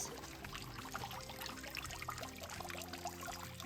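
A 16th-century stone fountain in the centre of a cloister courtyard trickles and splashes steadily, a soft continuous flow of water with no one talking.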